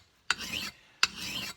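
Two slow, even rasping strokes of a sharpening puck drawn along the bevel of a spoon carving knife, each starting with a sharp scrape and trailing into a gritty rub, close and clear with quiet between strokes.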